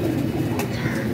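Kagzi pigeons, light paper-feathered birds, give a soft, low continuous cooing close by, filling the brief moment without pause.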